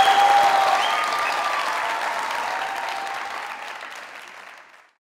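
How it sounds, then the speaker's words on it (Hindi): A studio audience claps at a comedy talk show, a dense burst of loud applause that sustains evenly and then fades away over about five seconds, with no voices. "तालियां।"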